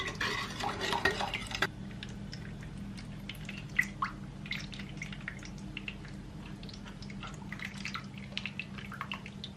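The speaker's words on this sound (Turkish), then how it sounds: "Şöyle güzelce bir karıştırdım." Chicken and potato pieces stirred in a pan with water added, for an oven-baked dish: an opening burst of scraping and rattling, then a soft bed of liquid, small clinks and drips, fairly faint and close, without talk.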